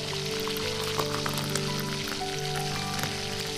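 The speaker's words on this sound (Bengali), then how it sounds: "প্রথমে হাঁড়ির মধ্যে তেল জিরে লঙ্কা ফোড়ন দিয়ে চাল আর ডালটা একসাথে দিয়ে দিলাম" Rice and lentils hiss and crackle steadily in hot oil with cumin and chili in a cooking pot, a close, continuous dense sizzle with faint scattered pops and a low background hum throughout.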